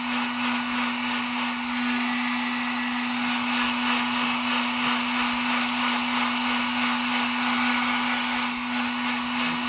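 A heat gun blowing on a sublimation tumbler wrap, producing a steady, close whooshing blower roar with a constant motor whine throughout, no talking.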